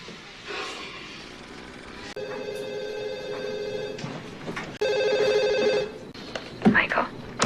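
A telephone rings in two bursts of repeated electronic trills, fairly close, with movie dialogue and background sound around it as a wife calls her husband after finishing quarantine.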